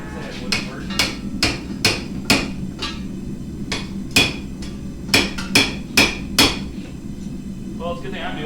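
Sharp metallic hammer blows ring out while a hot dog roaster is being built, about a dozen loud, evenly spaced strikes close by, with a brief voice at the end.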